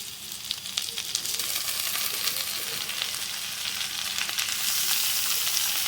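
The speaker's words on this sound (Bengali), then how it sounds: "বাঁধাকপিটা আলুটা ভালো করে ভেজে নেব" Cabbage and potatoes fry in hot oil, giving a steady, dense sizzle that runs unbroken throughout at close range, with occasional faint stirring scrapes and no talking.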